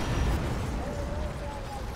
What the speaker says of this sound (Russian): Взрыв заказывали?